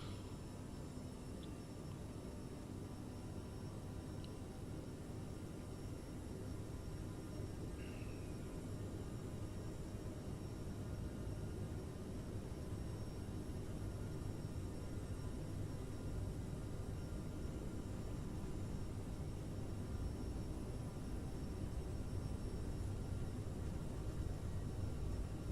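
Aerosoft CRJ900 jet engines spooling at takeoff thrust in Microsoft Flight Simulator, a steady, loud broadband roar that holds level throughout with no talk.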